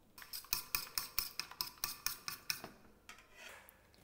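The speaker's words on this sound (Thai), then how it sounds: "ตีไข่ใส่น้ำปลานิดนึงนะ" A utensil beats eggs rapidly against a bowl, about a dozen quick, evenly spaced clinks, then slows into softer scraping strokes.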